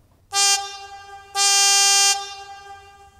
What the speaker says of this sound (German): F9, Signalhorn tief.